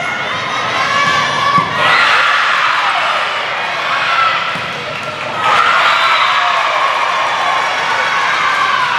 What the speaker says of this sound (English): Big roar went up.